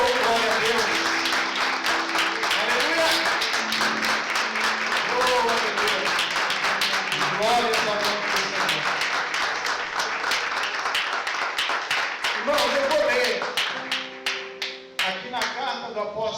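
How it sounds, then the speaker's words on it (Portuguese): A congregation clapping during a thanksgiving church service, continuous rhythmic applause with sustained voices and music underneath, loud for most of its length before thinning into scattered claps near the end. "Você pode aplaudir a Jesus."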